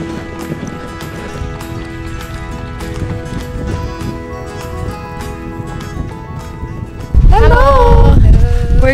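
Horses walk on a trail in the Namibian desert, hooves clip-clopping in a steady rhythm. Mares and foals are nearby, and the hoofbeats are joined later by a louder burst of movement and a horse's call.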